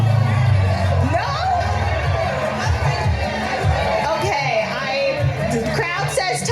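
A game show studio audience on Let's Make A Deal shouts its choice at once, a loud, dense mass of overlapping voices and cheers that fills the room and continues throughout.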